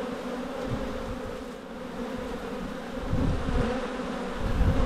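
Bees swarm at an opened, long-abandoned beehive, a close, dense buzzing drone that holds steadily and swells louder toward the end, with no talking.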